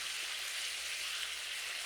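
Sauce cooking and thickening in a pan alongside steak for an ancient Roman ofella dish, a steady close sizzle with fine crackling and no talk over it.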